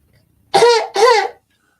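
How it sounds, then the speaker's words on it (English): A person gives two quick, close coughs in a row, loud and clear against near silence. "Now, if you cough, he'll get it."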